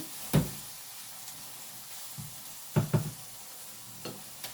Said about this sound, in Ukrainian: Це зараз буде у нас трохи обжарюватися